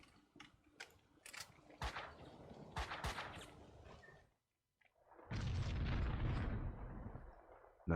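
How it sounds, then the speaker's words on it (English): Gunfire in the Max Payne 2 video game comes as sharp, closely spaced shots with booming tails, then a brief silence and a loud sustained rumbling burst that sounds like an explosion. "someone else is shooting at me"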